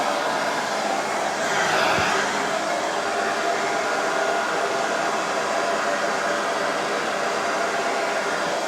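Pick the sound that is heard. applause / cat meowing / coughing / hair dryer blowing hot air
hair dryer blowing hot air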